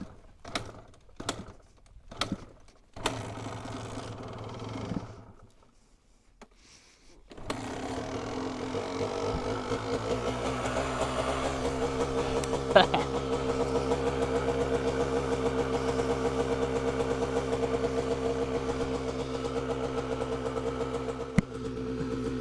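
A motorcycle the owner has worked on for about a year, just off a 200-mile trip in a truck, gives several sharp clicks and brief cranking attempts, then catches and settles into a steady, close, loud idle that holds to the end.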